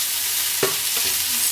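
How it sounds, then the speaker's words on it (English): Omelette mixture with chili seasoning stirred in a frying pan over a steady sizzle, one brief utensil scrape standing out as the spatula moves, no talking. "So again, we just continue mixing that around."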